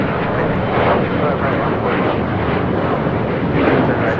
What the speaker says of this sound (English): Now on final for 24 right is Emirates 215 Super coming in from Dubai on the A380